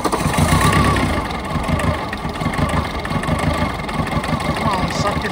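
Abandoned Volkswagen Rabbit diesel engine, sitting 12 years, runs roughly: an uneven, close clattering idle that sputters and struggles, with faint talk in the background.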